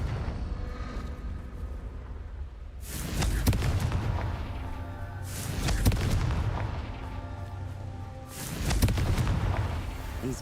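Confringo, a fiery explosive spell in Hogwarts Legacy, cast during the Merlin trials: three loud booming blasts spaced a few seconds apart, each a sharp burst that rolls into a lingering rumble.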